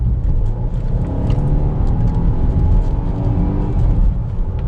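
A Volvo XC90 with 328 brake horsepower accelerates hard, its engine a loud, steady, deep rumble heard from inside the cabin with no break.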